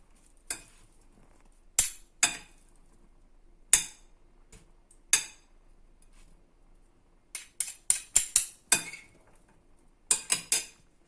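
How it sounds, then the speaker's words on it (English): A utensil knocks and scrapes against a pot while jerk ingredients for a Jamaican jerk feast are stirred, giving sharp, irregular clinks in short bursts with quiet gaps between them. "I'm just going to give that a stir up."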